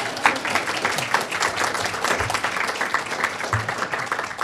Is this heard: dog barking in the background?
no